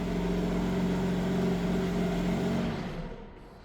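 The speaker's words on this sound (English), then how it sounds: "how did you like that remote engine start, cold start sound?" A 2026 BMW M3 Competition engine on a remote cold start idles steadily with a low rumble and faint whine, then eases down and quiets toward the end, close by with no talk.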